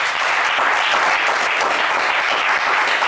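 A studio audience at a French television game show applauds steadily and evenly, a dense continuous clapping that holds at the same level from start to finish.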